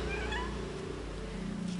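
A cat in Guajará-Mirim, Rondônia, gives a drawn-out, wavering meow, close and fairly clear, over a low background hum with no talk.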